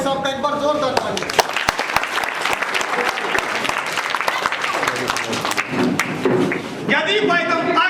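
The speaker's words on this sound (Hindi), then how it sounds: "एक बार जोरदार तालियां।" Loud, sustained applause from a village rally crowd at an outdoor political event, dense claps filling the whole stretch with voices and chanting mixed in, swelling near the end.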